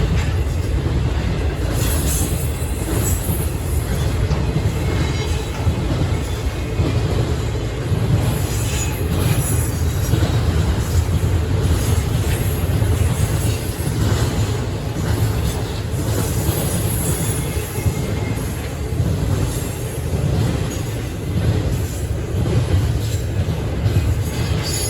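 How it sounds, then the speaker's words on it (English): A Norfolk Southern 20T freight train led by two GE Evolution locomotives moves along the Chicago line off a connector track in Butler, Indiana, with a steady, loud rumble of rolling cars and wheels and occasional wheel squeal throughout. "Norfolk Southern 20T gets on the Chicago line from the connector track on the Fort Wayne sub"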